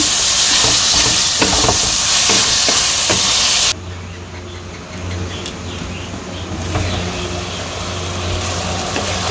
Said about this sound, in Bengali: মশলাটা আমি একটু ভালো করে কষিয়ে নেব